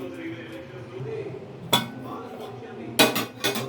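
A metal lid is set onto a pot of cooked dal in a home kitchen, giving a sharp clink and then two more clattering knocks later, heard under a woman's quiet speech.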